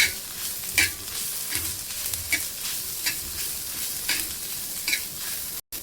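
Cauliflower curry with turmeric and garam masala being stirred in a hot pan, a steady close sizzle of frying broken by repeated scraping strokes of the spoon, with no talking.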